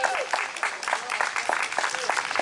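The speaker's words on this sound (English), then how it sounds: "Y'all should be clapping" Audience clapping at a Chicago community summit, a steady wash of many hands under some overlapping voices and crowd murmur, fairly distant.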